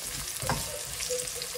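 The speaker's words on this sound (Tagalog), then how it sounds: "Kakaramelize lang natin yung onions." Onions sizzle steadily in hot oil in a pan while being caramelized for a spicy shrimp and garlic chili oil dish, with a brief stirring clatter near the middle and no voices.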